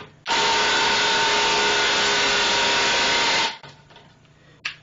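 A Ryobi P238 impact driver drives a lag bolt in one loud, continuous burst of about three seconds, then stops abruptly, leaving faint handling noises and a short final blip.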